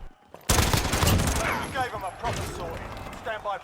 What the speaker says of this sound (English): seems like it's SMGs and AR, so AK-74U